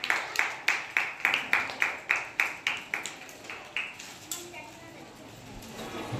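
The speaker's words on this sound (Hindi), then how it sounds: "तालियां बजाओ।" Schoolchildren at a Maharashtra school clap hands together in a steady rhythmic group pattern of about a dozen sharp, evenly spaced claps, then a few looser, softer claps trail off into the murmur of the room.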